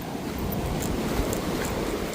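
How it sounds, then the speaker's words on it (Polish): Sea waves break and wash continuously along the shore in a steady rushing roar, with wind buffeting the microphone and no voices. "Trochę te fale biją"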